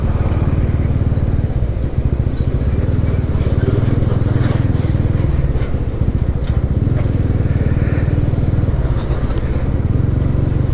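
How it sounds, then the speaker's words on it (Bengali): A motorcycle rides along a footpath near a barrage with a constant loud engine drone and road rumble that holds steady throughout. "বাইক ফুটপাথ দিয়ে নিয়ে যাচ্ছে"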